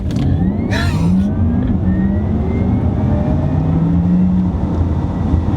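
An electric car surges loudly as it accelerates in a roll-on, a steady rising whir with a brief hiss early on, close and continuous throughout.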